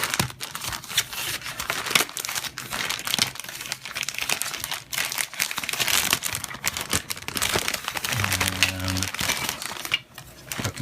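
Continuous, close crinkling and tearing of plastic packaging as the bagged parts for a Millennium Falcon model kit are ripped open, with short rustles and a brief low buzz near the end.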